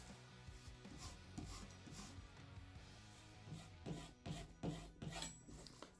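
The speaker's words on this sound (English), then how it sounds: "Give it a few passes on the leather." A knife blade passed over a leather strop after sharpening on a brick, a series of soft rasping strokes with uneven rhythm, close and moderately quiet, no talk.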